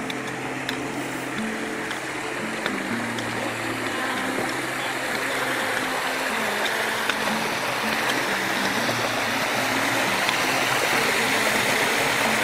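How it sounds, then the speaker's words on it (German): A fast mountain stream rushing down a slope into a diversion basin on a hiking trail in the Harz, a steady, dense broadband water roar with no break. "das Wasser, was hier den Berg runterkommt, ziemlich schnell den Berg runterkommt, wurde dann hier abgebremst"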